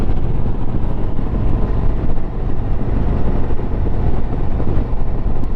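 A Harley-Davidson Street Glide motorcycle cruising along easy sweeping roads, a loud steady engine rumble mixed with heavy wind buffeting on the microphone, continuous and without speech.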